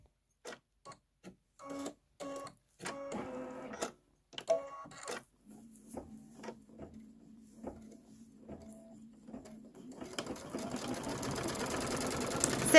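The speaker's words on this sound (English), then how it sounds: "So just let it stitch." An embroidery-style sewing machine stitches a quilting background in steady mechanical runs of rapid ticking, stopping and starting before settling into a continuous whir, close and fairly quiet.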